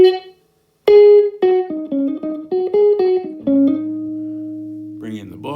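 Electric guitar through an ordinary reverb rather than a Sonulab Galaxy pedal, playing a quick run of clean plucked notes that settles into a sustained ringing chord, with a brief voice at the very end.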